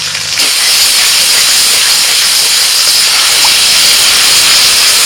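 Cardamom, cinnamon, cloves and whole cumin hit a little hot oil in a pan, bursting into a loud, continuous hissing sizzle that holds steady close by.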